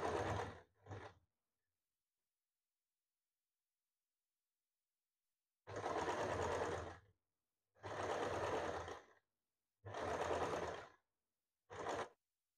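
Sewing machine joining a sleeve to a princess-cut blouse at the shoulder's middle, running in four steady bursts of a few seconds each after a brief short start, with clear pauses between runs and no talk.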